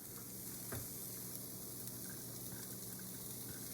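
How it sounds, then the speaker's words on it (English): Onions, garlic and oregano fry in a pan with a steady, close sizzle, broken now and then by a faint clack of stirring. "Fry the onions, garlic, and oregano"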